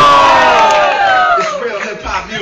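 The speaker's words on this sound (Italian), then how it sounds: "Un applauso a Kimitri alla guerra," Crowd at a live hip hop show in Rome cheering and shouting, a loud surge of voices that trails off over a couple of seconds, near and dense.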